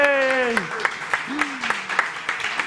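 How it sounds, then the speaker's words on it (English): Scattered clapping for a travel panel at the South Summit 2022 Sandbox Stage, sharp separate claps in a loose rhythm after a drawn-out cheer from a nearby voice. "big round of applause, please, for the panel on travel"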